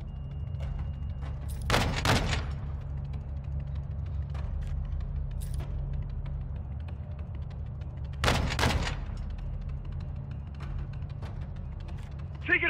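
Gunfire in a Call of Duty PS5 mission: two loud distant bursts of shots stand out against a low rumbling battlefield drone, with quieter mechanical clicks scattered between them.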